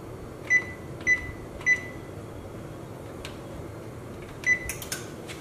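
Electric oven control panel giving several short, clear beeps as it is set to bake, spaced about half a second apart with a brief pause before another beep, over a quiet room hum.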